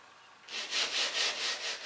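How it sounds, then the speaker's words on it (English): Sandpaper wrapped around a solid MDF block rubbed back and forth on wood, about five rhythmic hissing strokes close to the mic after a brief quiet start. "simply wrap that round with some sandpaper. Then you've got a nice solid surface with which to sand."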